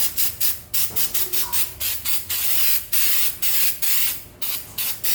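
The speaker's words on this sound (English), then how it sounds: "So now I'm just gonna powder coat this real quick" A powder coating spray gun hisses in repeated short bursts on Jeep XJ Cherokee suspension parts, loud and close, with brief gaps between pulls of the trigger.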